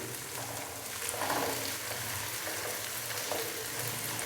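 Ginger garlic paste frying in oil in a karahi for chicken karahi, a soft, steady sizzle with faint stirring scrapes, close and continuous with no talking.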